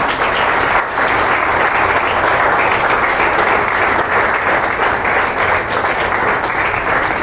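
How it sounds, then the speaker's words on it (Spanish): Loud, sustained applause from a large crowd at a quinceañera church service, steady and dense throughout with no voices standing out. "Un aplauso para Adasa."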